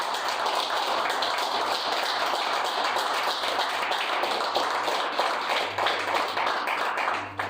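A church congregation claps steadily and densely in a sustained round of applause, loud and continuous with no voices over it.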